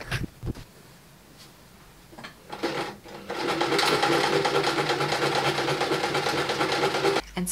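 A sewing machine understitches a seam on a fully lined wrap jacket, first with a few short starts and handling sounds, then running steadily and loudly in a continuous whirring hum for several seconds before stopping.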